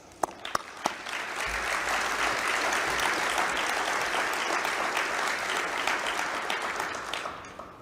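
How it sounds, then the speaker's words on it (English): Sustained applause from a civic audience at a State of the City event in Dickinson, honoring city employees and commissioners; a few sharp early claps build into a dense, steady round that carries on evenly throughout without talk. "we'll get a big round of applause for everybody"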